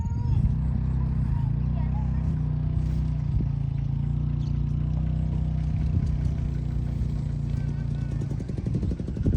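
A farm tractor engine running steadily on a cassava farm, a loud, close, low throbbing drone that holds level throughout with some clatter and a rougher pulsing near the end, while someone talks over it.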